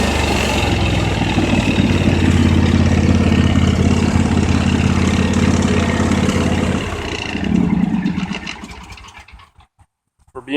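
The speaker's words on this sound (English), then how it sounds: "for being a big engine, it's pretty quiet actually." A John Deere X570 lawn tractor's big engine idles close by in a steady, loud drone, then its note drops and fades out near the end.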